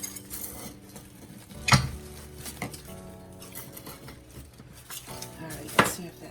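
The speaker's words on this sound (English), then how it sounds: "So I just have a regular knife here, a butter knife. Going around the edges to see if we can loosen things up a little bit." A butter knife scraped around the inside edge of a pot to loosen a root-bound white bird of paradise, making close scraping and knocking sounds with two sharper clunks, no talking.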